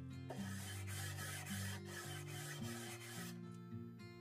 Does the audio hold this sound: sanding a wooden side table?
yes